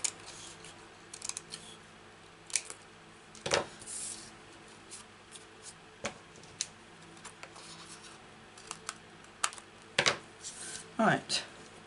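Scissors snip through paper in a papercraft card project, short crisp cuts coming in irregular bursts at close range, with quiet rustling of the paper between them and nobody talking.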